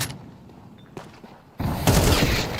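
Rapid AK rifle fire in a Counter-Strike esports match between FURIA and Team Spirit: faint shots first, then a loud sustained burst of dense gunfire and booms that fills the last second.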